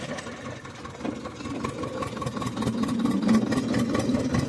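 A 53-year-old Zetor 2011 tractor engine chugs at a steady, moderate idle-like rumble on a rough dirt farm track, close by and gradually growing slightly louder, with no talking.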